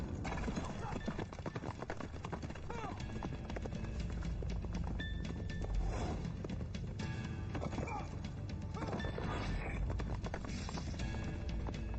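Hooves of several horses clip-clop steadily at an unhurried pace, heavy strikes mixed with lighter ones, with occasional whinnies and a dense, continuous background throughout.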